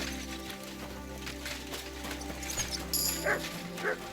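A dog at a horse trader's in the video game Kingdom Come Deliverance 2 gives a few short yips and barks over a busy ambient background with music.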